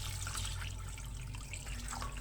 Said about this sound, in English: now I pour in the cold water